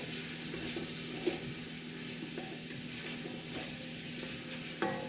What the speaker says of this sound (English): Let me stir a little bit of that around.